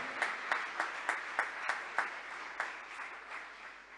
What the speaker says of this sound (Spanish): Le damos un aplauso a Dios por la persona que está a tu lado.